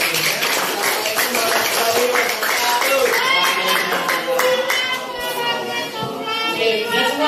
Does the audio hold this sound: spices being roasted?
no